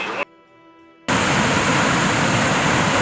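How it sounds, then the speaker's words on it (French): A waterfall in Norway's Lofoten Islands, heard as a dense, steady roar of rushing water that cuts in loudly after a short quiet stretch with faint tones. "venir sur ce rocher voir cette cascade qui est magnifique"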